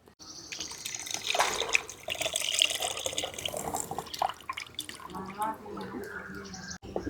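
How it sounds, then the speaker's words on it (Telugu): Soaked tamarind water is poured into a pot of cooking moong dal, giving a splashing, trickling liquid pour, with a voice talking over parts of it. "ఇప్పుడు మనం పులుసు పోసేసుకుందాం."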